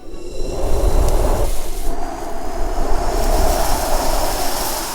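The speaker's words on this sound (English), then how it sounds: "if a tree is moving, we do the sound of the wind moving the branches" Foley wind stirring tree branches: a steady, fairly loud broadband rushing and rustling that swells slightly and holds throughout, with no voices.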